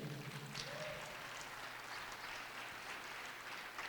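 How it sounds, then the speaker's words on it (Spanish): A church congregation applauds during a sermon, a soft, continuous wash of many hands that sounds distant and low in level. "Démosle un aplauso a la gente que no hace nada, porque también es bien recibida."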